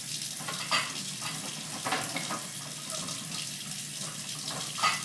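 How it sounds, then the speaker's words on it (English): A bathroom sink tap runs steadily while someone rinses their face, a continuous hiss of water broken by a few louder splashes from scooping hands. "I'm going to run the water here and get it off."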